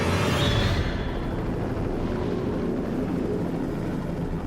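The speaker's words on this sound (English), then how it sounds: "We see this helicopter just being tossed about like a cork on the ocean" A helicopter hovers close by in strong wind, giving a loud, continuous broadband roar and rush with no distinct blade thumps, the rushing sound steady throughout.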